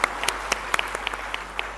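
Audience applause at a government event in Bhopal's Minto Hall: a short stretch of scattered clapping with a few louder individual claps, heard alone.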